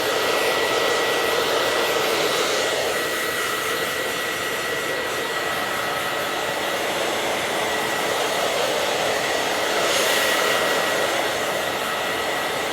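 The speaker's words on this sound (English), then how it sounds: "I apologize for hearing the blow dryer" Blow dryer running steadily while a man's hair is dried during a haircut, a loud, close, continuous airy roar with a slight swell near the end and no talk over it.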